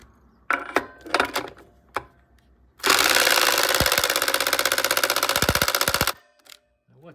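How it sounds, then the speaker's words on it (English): Ratcheting or rattling burst from a tool tightening the axle bolt on a vintage British motorcycle, a dense rapid clatter lasting about three seconds after a few sharp clicks and knocks, close and loud with no talk. "now I'm going to tighten down the bolt that holds the axle."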